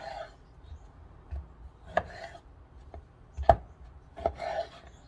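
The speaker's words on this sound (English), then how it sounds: "What I like to do is cut them in quarters" Gala apples being cut into quarters with a knife on a board: several sharp, separate chops spaced a second or so apart, close and moderately loud, with quiet rubbing between strokes.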